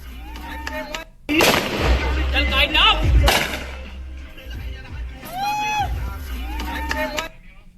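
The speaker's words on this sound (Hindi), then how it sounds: "केक काटने के बाद जमकर हार्श फायरिंग हुई, जिसका लाइव वीडियो भी सोशल मीडिया पर आ गया है" Celebratory gunfire after a cake cutting, a burst of loud cracking shots and bangs under crowd noise and talk.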